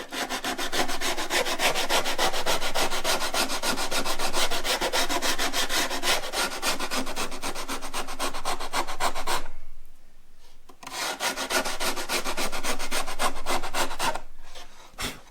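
Hardened glue is sanded off the wooden kerfing inside a 1962 Harmony arch top guitar, producing a continuous, close, raspy rubbing with rapid back-and-forth strokes that break into two short pauses.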